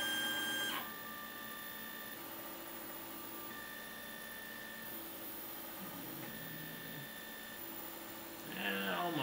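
DIY 3D printer printing at 210 degrees, its stepper motors whining in shifting steady tones with short pauses and pitch changes, quiet and close, and a burst of louder movement near the end.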